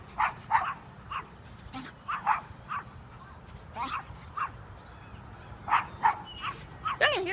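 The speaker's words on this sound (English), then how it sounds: "I can hear these noises this dog is making." A dog whimpers, yips and gives short barks at a bird trapped inside a trampoline, its bursts recurring in uneven clusters over steady outdoor background noise, with people talking nearby.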